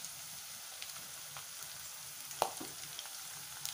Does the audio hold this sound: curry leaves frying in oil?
yes